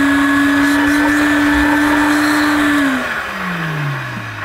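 An Electrolux 502 vacuum cleaner motor runs with a loud, steady whine that drops in pitch after about three seconds as the machine winds down.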